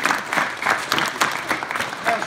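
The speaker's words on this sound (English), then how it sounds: "How about a big round of applause for Mr. Middleton?" Kids at a youth hockey camp clap in a short, uneven burst of applause, with claps rising and falling in loose clusters and some voices mixed in.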